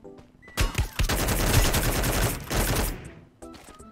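Gunfire in the Free Fire battle royale game: a loud, dense burst of rapid automatic shots lasting a couple of seconds, then a short pause and a few more shots, with almost no talk.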